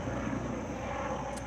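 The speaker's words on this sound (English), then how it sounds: "Helicopter flying over as I say that." A helicopter passes overhead outdoors, a continuous, fairly distant rumbling drone that holds steady throughout with no voices over it.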